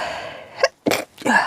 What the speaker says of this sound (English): Okay, I'm going to sneeze.